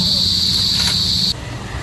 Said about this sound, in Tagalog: At talaga namang ang huni ng kuliglig ay iyong maririnig.